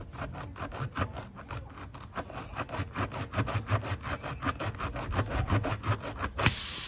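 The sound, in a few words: reaming a punctured tyre hole with a repair kit tool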